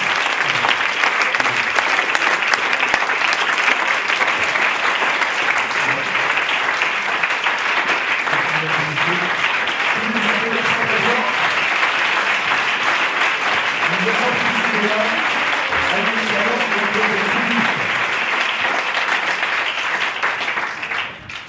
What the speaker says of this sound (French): sous vos applaudissements et avec vos accompagnements, vous allez pouvoir réveiller.